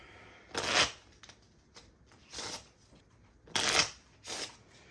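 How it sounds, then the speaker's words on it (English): Four quick riffle shuffles of playing cards, crisp bursts of flapping card edges separated by short pauses, close and clear. "I will shuffle."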